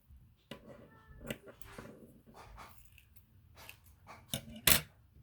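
Scissors cut yarn for a craft picture, giving a few scattered snips and clicks at close range, the last ones sharper and louder, over a faint background rustle.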